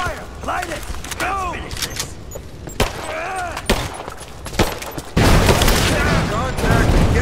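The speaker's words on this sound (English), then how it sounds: "I'm under fire!" Gunfire and explosions in Rise of the Tomb Raider, with repeated sharp gunshot bursts and booms over shouting voices, building to a dense, loud barrage in the final seconds.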